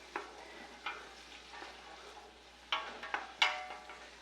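Onions sweating in a pan over medium to medium-high heat give a quiet, steady sizzle, broken by several soft stirring scrapes and clatters.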